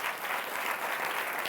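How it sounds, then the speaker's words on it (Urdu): A church congregation claps in a brief, dense burst of steady applause at a welcome during a worship service. "آئیے کلیسیا تالیاں بجا کر"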